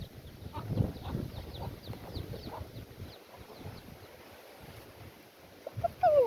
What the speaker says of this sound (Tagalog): Ang ingay ng manok